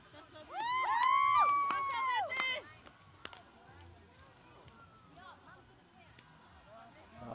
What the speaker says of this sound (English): A lot of cheering come from the clubhouse, the Arorangi clubhouse.